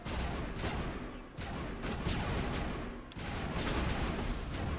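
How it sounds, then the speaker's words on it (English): Gunfire rattles through a firefight in the video game Mass Effect Legendary Edition, heard as fairly quiet, dense bursts of shots with brief pauses between volleys. "Who are we shooting at?"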